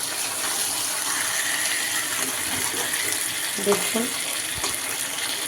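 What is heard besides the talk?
water poured into pan of fish curry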